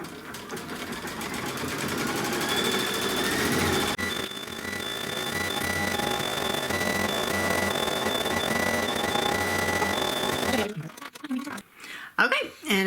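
An embroidery machine stitches a quilting design in off-white candle wicking thread, giving a steady, close, continuous mechanical hum with a rapid needle rhythm for about ten seconds before stopping, followed by brief handling sounds.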